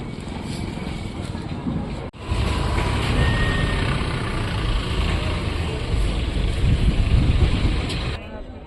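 A tractor engine runs steadily and loud throughout, with a brief dropout near the two-second mark before the rumble resumes; voices are faintly present underneath.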